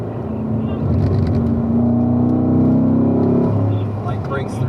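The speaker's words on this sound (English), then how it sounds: "Full throttle, accelerate and unwind." Car with automatic transmission accelerating at full throttle on a race track, engine note rising steadily and loud inside the cabin, with a person speaking over it.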